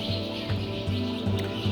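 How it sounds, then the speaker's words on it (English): Cave swallows twitter near the entrance of Carlsbad Caverns, a run of quick high chirps over a steady low hum of wind or motorcycle noise. "These are cave swallows."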